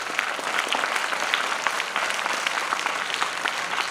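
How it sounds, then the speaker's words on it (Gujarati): An audience at a Republic Day school function at Meghpar primary school in Bhuj, Kutch, bursts into continuous applause: many hands clapping in a dense, even patter, fairly loud and sustained with no talking. "ભાઈ તાળી વગાડો ને ભાઈ."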